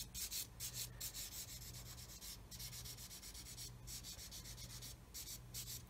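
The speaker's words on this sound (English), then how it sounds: "as you're rubbing, you can see where the sanding is taking effect." Sanding stick rubbed back and forth on a plastic part of a 1/35 scale Meng 9K37M1 BUK missile model kit, producing close, soft, rhythmic scratchy strokes with short pauses between passes.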